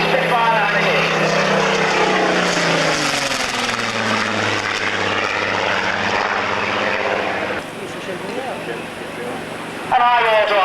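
A photographic reconnaissance Spitfire 19 passes at an air pageant, its propeller engine droning loudly and shifting in pitch as it flies overhead, with a public-address voice talking over it.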